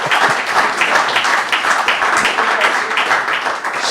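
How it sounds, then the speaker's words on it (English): A studio audience claps and cheers after a news segment, a dense, steady burst of applause that carries loudly throughout without a break. "That's the first time he's ever had applause for the news."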